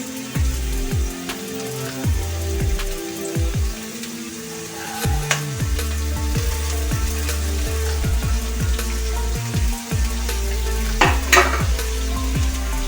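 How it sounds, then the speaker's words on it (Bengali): Potato, capsicum, carrot and chopped chilli fry in a pan for a Maggi dish, with a steady loud sizzle throughout and repeated scraping strokes of a spatula stirring the vegetables, no talk. "তারপর একে একে অন্য সবজিগুলো দিয়ে দিলাম। আলু, ক্যাপসিকাম, গাজর, লঙ্কা কুচি"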